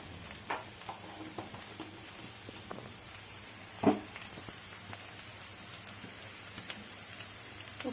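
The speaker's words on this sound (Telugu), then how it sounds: "ఉప్పు తగినంత వేసుకొని కలుపుకోవాలి." A spoon stirring spiced potato filling for street-style aloo samosas in a pan, soft scraping under a steady sizzling hiss, with one louder clack partway through.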